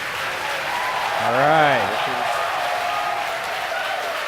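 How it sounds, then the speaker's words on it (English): A crowd cheers and applauds at SpaceX headquarters during a Starlink launch, a broad steady roar under a voice that speaks briefly, with a short rising and falling tone sweeping through the middle. "you can hear it through the cheers of the crowd here at SpaceX headquarters"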